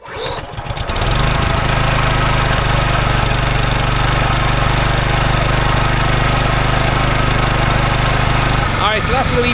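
A small petrol engine on a troublesome machine runs loud and steady after a brief start, with a rough, sputtery drone throughout before cutting off near the end.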